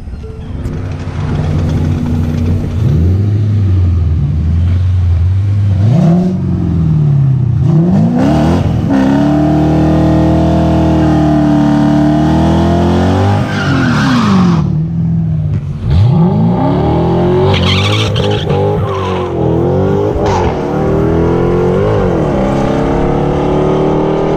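A drag racing car's powerful engine revs and accelerates hard down the strip at night, its roaring pitch sweeping up through repeated gear shifts, loud and close throughout.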